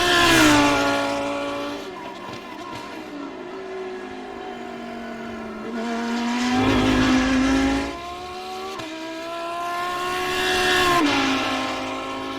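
A Lamborghini Huracan GT3 race car in a racing video game, its engine whining and climbing through the gears in several rising sweeps, passing loud and close before easing off, with no talk.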